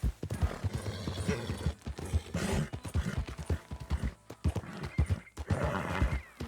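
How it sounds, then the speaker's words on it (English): A tired horse in Red Dead Redemption 2 walks with steady clip-clop hoofbeats and lets out whinnies and snorts, up close, with faint background sounds around it. "Mais devagar aqui, o cavalo tá cansado."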